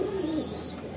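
A pigeon gives a single short, low coo up close, with faint background ambience and no other calls.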